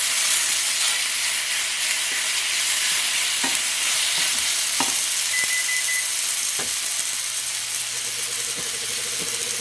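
Boiled sorrel pulp hits a hot pan for a spicy Trinidad-style sorrel chutney, giving a loud, steady sizzle throughout with a few short scraping clicks of stirring.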